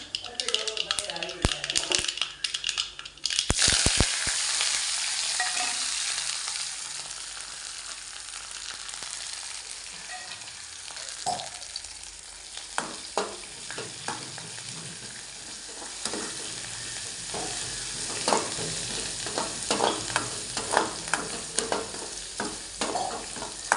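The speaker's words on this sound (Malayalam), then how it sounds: "ഇനി ഇതിനകത്ത് ഇറച്ചിക്കറിക്ക് താളിക്കാനുള്ളതാണ് തേങ്ങാക്കൊത്ത്, കരിയാപ്പില, കൊച്ചുള്ളി." Coconut pieces, curry leaves and shallots frying in hot oil as a tempering for meat curry, a loud steady sizzle with sharp crackles and pops bursting through, heard close up with no one talking.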